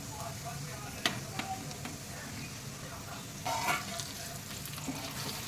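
Potatoes going into a low-flame pan with chili flakes and frankie powder for street-style potato frankie, a soft continuous sizzle with occasional stirring scrapes and clinks, close and quiet.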